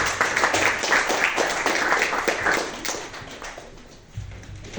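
Strong applause from a concert audience at a Spanish medieval music performance, dense steady clapping that fills the space for about four seconds and then thins out, with a low thump near the end.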